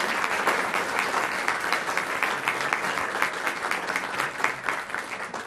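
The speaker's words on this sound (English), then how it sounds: "So a round of applause for the outgoing court of" An audience at a city council meeting applauds the outgoing court, a dense, steady round of clapping that stays loud and even for several seconds without a break.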